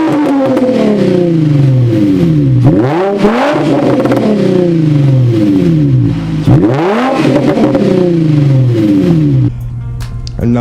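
A Nissan VQ engine with its muffler and resonator deleted revs hard and loud, its raspy exhaust note climbing and falling in repeated swells.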